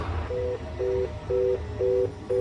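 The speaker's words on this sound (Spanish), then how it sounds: "En ese momento, la línea se cortó." A telephone busy tone sounds after a cut-off call, five evenly spaced beeps repeating in a steady on-off rhythm over a faint background hum.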